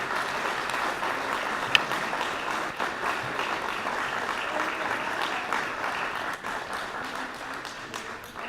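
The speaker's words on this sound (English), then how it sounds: "please give a round of applause for Mr. Grow" Steady round of applause from a banquet crowd at a chamber of commerce awards dinner honouring Distinguished Service Award winners, even and sustained throughout with no talking over it.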